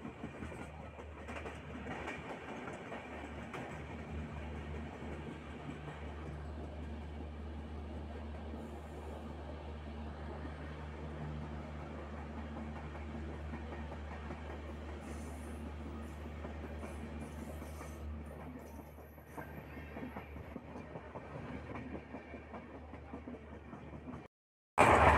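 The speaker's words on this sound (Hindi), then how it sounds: "तो ट्रेन सुरंग में से जा रही है।" Passenger train running through a tunnel between Itarsi and Bhopal, a steady enclosed rumble with rhythmic wheel clatter and faint squeal, heard from onboard, continuous for about 24 seconds before an abrupt burst at the end.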